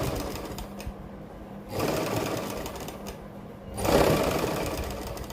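A sewing machine stitches along a kurti's round neckline in fast, steady runs of mechanical whirring and clatter, close and clear, with short pauses between the stitching bursts.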